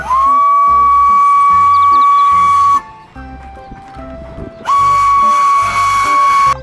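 A Thomas and Friends toy train's steam-style whistle blows two long, steady toots separated by a short pause, loud and close over a faint mechanical hum.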